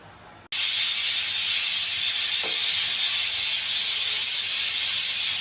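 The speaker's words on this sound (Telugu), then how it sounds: "ఒకే ఒక విజిల్ అండి, స్టవ్ ఆపేయాలి." A pressure cooker on a stove lets off a steady, loud hiss of escaping steam that bursts in abruptly after half a second and holds unbroken to the end, with no voices.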